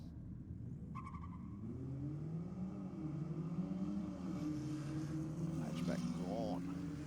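Hatchback drag racing car launching at a night drag strip event, a loud engine roar rising in pitch as it accelerates away, with a commentator's voice over it.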